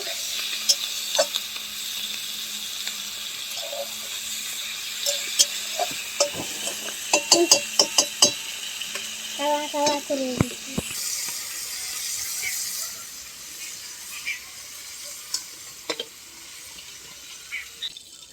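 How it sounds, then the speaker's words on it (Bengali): Shredded cabbage is stir-fried in a kadai, with a steady soft sizzle under clustered metallic scrapes and clinks of the spatula against the pan, close and moderately loud, with no talking. "বাঁধাকপিটা কষানো হয়ে গেছে, বাঁধাকপিটা নামিয়ে নেব।"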